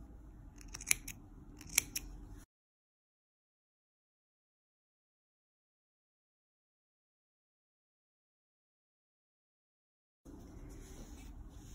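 Scissors clip fabric up to a seam on a scarf in a few quick, close snips, followed by a long silence and then faint handling of the cloth.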